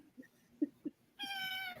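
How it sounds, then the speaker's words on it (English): A cat meows once, a clear, fairly loud, tonal cry near the end, preceded by a few soft thumps and faint sounds in a quiet room. "Hi, Kitty"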